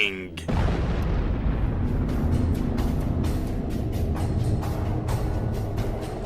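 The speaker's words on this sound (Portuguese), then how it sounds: "o material remanescente iria evaporar em uma explosão colossal e faria bang!" A colossal explosion, a documentary sound effect for an evaporating mini black hole, bursts in after a brief lead-in and becomes a loud, sustained roaring rumble that fills the rest of the clip.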